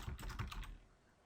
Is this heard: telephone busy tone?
no